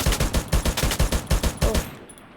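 Rapid bursts of video game gunfire, about a dozen loud shots fired in a steady automatic rhythm that stops abruptly near the end.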